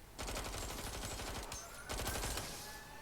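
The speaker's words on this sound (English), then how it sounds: "Gunfire!" Rapid bursts of automatic gunfire rattle loudly and continuously, with a brief lull before another intense volley, from a firefight in the video game Watch Dogs Legion.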